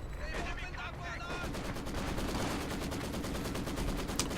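Maxim machine gun firing in Company of Heroes 2, a fast, steady rattle of bursts running continuously under a commentator's voice that fades out after the first second.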